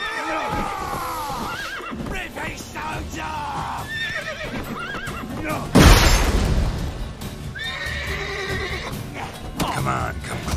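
Horses neighing and whinnying in The Witcher 3 Wild Hunt, several shrill calls spread across the scene alongside hoof clops and a sudden loud burst, with voices talking between them.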